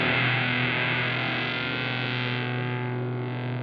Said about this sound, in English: The other control that's unique to the SurfyFuzz is this mass control, which helps you thicken up the sound of the fuzz